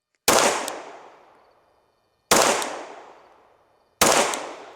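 Three loud, sharp pistol shots from a Glock 19 fitted with an Aimpoint red dot, fired one at a time at a target on a range, each crack ringing out and decaying before the next, with about two seconds between shots.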